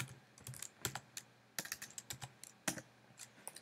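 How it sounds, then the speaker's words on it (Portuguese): Quick, crisp keystrokes tap out a short command on a computer keyboard, irregular clicks arriving in small clusters, close and fairly quiet. "A primeira coisa é digitar logout."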